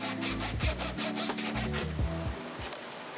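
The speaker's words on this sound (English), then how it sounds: "Then I used a Japanese pole saw to remove the rest of the material." A Japanese pull saw cuts through maple in steady back-and-forth strokes, each rasping pass repeating in an even rhythm, close and clear with no talking.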